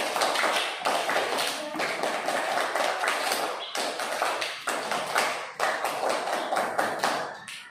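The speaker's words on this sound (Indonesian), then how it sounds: "Kalau sudah siap, tepuk pramuka." Classroom of second-grade schoolchildren performing the rhythmic scout clap together, a loud, dense burst of synchronized hand claps in repeated patterned groups with brief pauses, filling the room.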